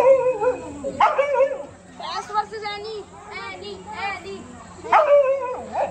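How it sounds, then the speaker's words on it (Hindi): A dog barks and yips repeatedly at close range in sharp bursts at a buffalo, with a person talking in between the barks. "ये देखो कैसे भौंक रही है भैंस को"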